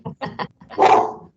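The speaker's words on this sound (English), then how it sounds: "Sorry for my dog." A dog barks three times in quick succession and then lets out a longer, rough growl, close and loud, indoors near a window.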